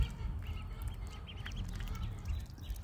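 Young ducklings chirp and peep in quick, overlapping bursts over a low rumbling background, faint and fairly close, with no talking.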